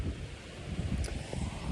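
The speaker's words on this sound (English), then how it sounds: "It's super windy today." Strong wind gusts through a mango tree outdoors, a steady close rushing and buffeting roar with low rumble against the microphone, no one speaking.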